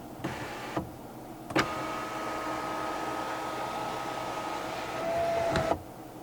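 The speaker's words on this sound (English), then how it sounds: "You can open up the sunroof as a vent or open it up in full." The sunroof motor on a 2025 Chery O5 1.5 Turbo runs with a steady electric whine lasting several seconds, bracketed by soft clicks, close and alone in a quiet cabin.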